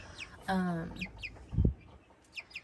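A few soft chicken clucks and chirpy calls, close and sparse, with a brief low thump midway.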